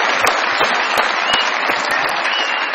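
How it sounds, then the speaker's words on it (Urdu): A studio audience applauds the motorcycle winner on a Pakistani comedy talk show, loud dense clapping with a few sharp near claps standing out, no talking. "بہت ساری تالیوں میں ویلکم کہتے ہیں"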